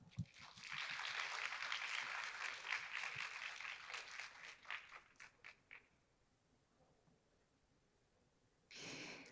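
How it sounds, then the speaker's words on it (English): Audience applause at a corporate innovation summit, a dense burst of clapping that thins into scattered claps and dies out, followed by a brief murmur. "please give our gentleman a big round of applause."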